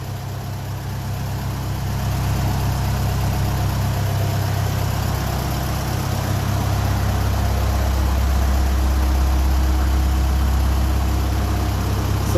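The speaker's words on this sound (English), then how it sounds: "I started the Ferguson 20 diesel" A Ferguson 20 diesel tractor engine idles steadily nearby with a low, even chugging throb that rises slightly in loudness after the first couple of seconds and then holds constant.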